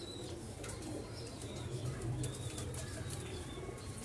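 Flying pigeons cooing softly among fluttering, flapping wings, with steady low coos and scattered wingbeats over a busy outdoor background.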